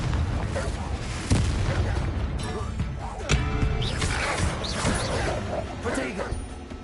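A Confringo explosive spell fires in Hogwarts Legacy on PS5, giving sharp booming blasts amid dense, continuous combat noise and mechanical clatter, with a voice heard throughout.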